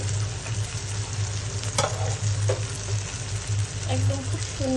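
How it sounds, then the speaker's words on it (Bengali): Spice masala being stirred in a pan to keep it from sticking, a steady scraping sizzle with intermittent clinks of a spoon against the pan, fairly close and continuous. "ঢাকনাটা উঠিয়ে একটু ভালো করে মিক্স করে নিচ্ছি, নিচে দিয়ে না আটকে যায় মশলাটা"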